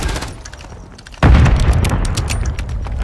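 A grenade launcher round explodes in a Search and Destroy video game match, a sudden loud boom that cuts in over the game's background noise and trails off into a rumbling tail.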